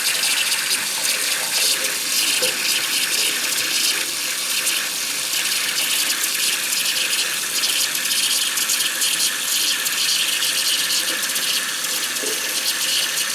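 Steady rushing, gushing water runs loud and continuous throughout as a Makro metal detector pinpointer is fully submerged, like a filling sink or running tap, with no talk.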